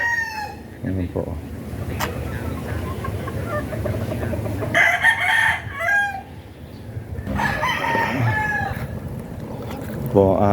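Gamecock roosters and a five-month-old breeding hen on a Filipino gamefowl farm, with repeated crowing and clucking close by over a busy rural background, alongside some faint talk.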